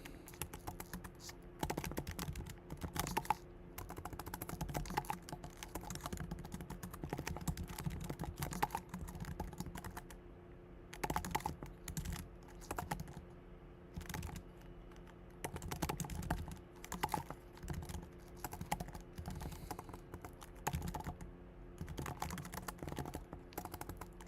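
Quiet, close typing on a computer keyboard while writing code, with irregular bursts of rapid key clicks separated by short pauses, continuing steadily with no talking.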